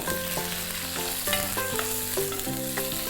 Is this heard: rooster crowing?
no